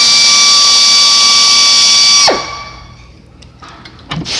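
A power drill whines loud and steady while boring a hole into a car headlight housing for a Whelen Hide A Way light, then cuts off sharply, leaving brief clicks and handling noises.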